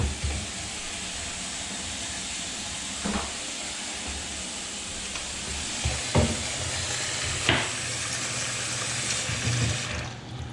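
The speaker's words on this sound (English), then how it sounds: "This thing's draining a little slow." Water drains slowly from a loose toilet or a drain during a home inspection: a steady, moderately loud watery hiss and rush with a few soft knocks and gurgles, and no talking.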